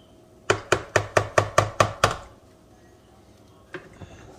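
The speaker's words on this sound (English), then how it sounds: "I give it a little stir from the bottom" A paddle stirs muscadine wine must up from the bottom of a fermenting bucket, giving a quick run of about eight sharp, evenly spaced knocks, then a pause and two fainter taps.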